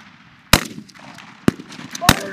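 Rifle shots crack out during a U.S. Marine rifle squad competition, three or four sharp, loud reports spaced irregularly over a brief stretch, with faint background voices between them.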